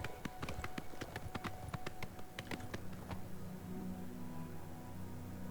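Horse hooves clip-clop in a quick, regular rhythm in the video game Oblivion Remastered, close and distinct over a steady background bed of game ambience, then fading out after a few seconds.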